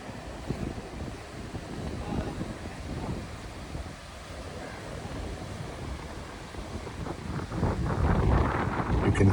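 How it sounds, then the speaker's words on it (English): Wind buffets the microphone at the beach in Fort Kochi, a steady rough rushing with surf-like wash underneath that swells louder toward the end. "You can hear the wind"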